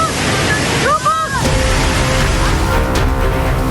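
Floodwater from the overflowing Cikaret River surges through Cipalagung in Bogor, West Java, a loud, steady roar of churning water that fills the whole scene.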